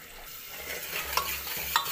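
Spices such as turmeric, chilli and coriander powder being stirred and mixed in a pan, soft sizzling under a few sharp scraping and clinking strokes of the spoon, close and fairly quiet, without talk.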